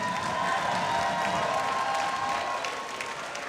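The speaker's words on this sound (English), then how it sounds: "First, have a round of applause, please, for Jordan Martin." Crowd applause and light cheering ring out after a university varsity boxing bout, a steady wash of clapping filling the hall that slowly eases off toward the end.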